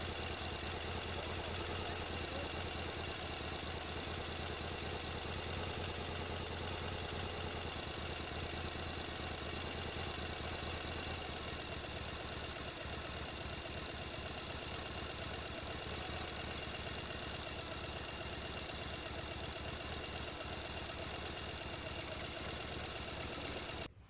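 A sewing machine runs steadily, stitching a cotton dish towel, its motor droning close and continuous at an even pace from start to finish with no talking.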